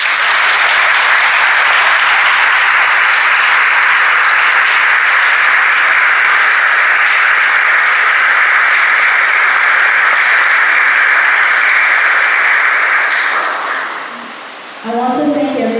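Loud, dense applause from an audience at a convocation ceremony, a steady wash of clapping for the speakers that holds for about thirteen seconds, then thins and fades to a few scattered claps at the end.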